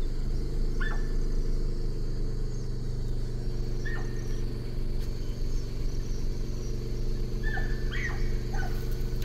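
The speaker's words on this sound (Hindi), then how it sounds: "वो कुछ देख के भौंक रहा होगा, कोई बड़ा जानवर आ गया होगा उसके पास में" A dog barks a few times, faint and far off in dense forest at night, the short yelps scattered over the constant drone of an idling vehicle engine.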